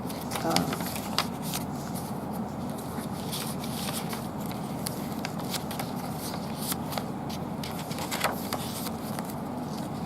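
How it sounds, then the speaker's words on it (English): Pages of a handmade journal filled with book pages and journaling cards are flicked through quickly, making a continuous close, papery fluttering and rustling with frequent crisp flicks. "So just a really quick flick through so you can see what's included in this journal."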